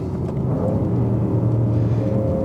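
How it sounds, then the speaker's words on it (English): Audi RS6 GT V8 engine, heard from inside the car as it runs down through the gears: a steady deep rumble with rising and falling engine tones, loud and continuous. "run it down the gear, so we can bring that V8 in. Just hear a bit of turbo wheeze."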